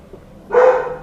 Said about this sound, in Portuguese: Aí a minha cachorra começa a latir lá no fundo